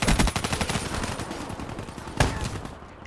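A shotgun fires in the Black Ops 3 multiplayer video game amid a loud, dense burst of gunfire, with rapid repeated shots and a sharp report near the end.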